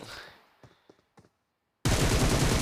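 Sustained gunfire from PUBG Mobile bursts in loudly and fills the last second of the clip, after a stretch of faint scattered clicks and taps.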